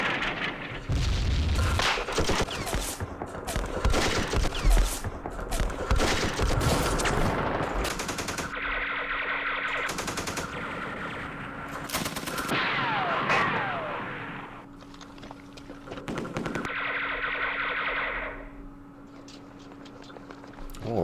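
Artillery and machine-gun fire in the wargame Campaign Series Vietnam during a Dien Bien Phu battle, with dense, loud bursts of rattling gunfire and heavy booms continuing for most of the stretch, briefly easing before another barrage.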